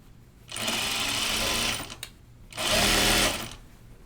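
A sewing machine stitches a fabric circle in two steady, buzzing bursts of about one and a half seconds each, separated by a brief pause, close and clear.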